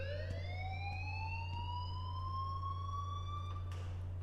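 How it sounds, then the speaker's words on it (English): An alarm rings in the video game Life is Strange, a rising siren-like wail that climbs steadily over a steady low hum, continuous and moderately loud. "please turn off that alarm"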